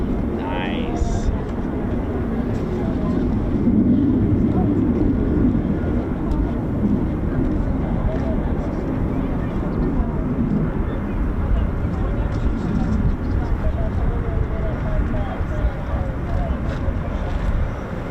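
F-15 and F-35 fighter jets with F-100 and F110-GE-229 engines roar steadily at RAF Lakenheath, a broad continuous rumble that holds at high volume throughout, with voices talking faintly underneath.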